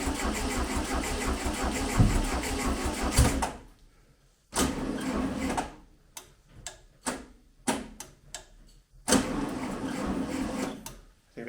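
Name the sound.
1971 VW Beetle engine cranking on a tired starter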